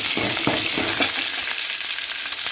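Tempering of shallot and asafoetida is tipped into agathi keerai sambar, a loud dense sizzle and crackle close by that spits hard at first and then settles into a steady hiss.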